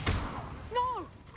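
Levioso levitation spell cast in Hogwarts Legacy: a soft thud and whoosh, then a short rising-and-falling magical whistle that fades out quickly.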